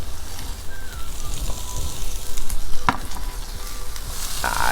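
Chopped onion and Mediterranean vegetables for a vegetable moussaka sizzle steadily in a hot pan, a close, dense crackle with occasional stirring scrapes and one sharp utensil knock.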